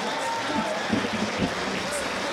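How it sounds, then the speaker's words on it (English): Crowd applause after a professional welterweight MMA bout, a continuous broad patter of clapping running under an announcer's voice. "give her a round of applause for that matchup there"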